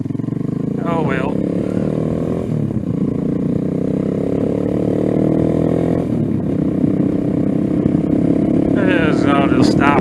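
A Venom Ghost 250 motorcycle ridden from the rider's point of view. The engine drones steadily, its pitch shifting as the rider revs through the gears, and a voice talks briefly near the start and again at the end.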